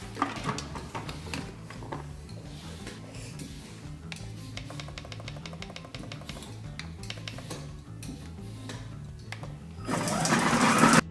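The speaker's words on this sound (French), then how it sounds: "on va mettre le hachoir dans le robot" A food processor with its chopper blade runs on two roughly cut onions, giving a buzzing, rattling whir in short pulses and a faster run, then a louder rough burst near the end.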